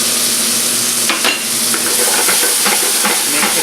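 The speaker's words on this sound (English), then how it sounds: "we're gonna add this boiled lentil in here." Boiled lentils go into a sizzling tadka of hot oil with green chilies and are stirred. A loud, continuous hissing sizzle runs throughout, broken by scraping stirring strokes, with no voices.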